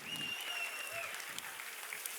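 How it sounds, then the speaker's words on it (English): A crowd at a cattle industry event gives a short burst of applause, a dense moderate patter of clapping at a steady distance. "Please give them a round of applause."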